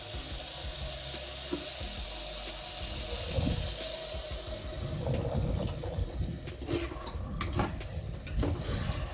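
Water runs and splashes steadily into a pressure cooker of fried mutton for biryani, a close, continuous liquid rush with a few clinks and bumps of cookware, no voices.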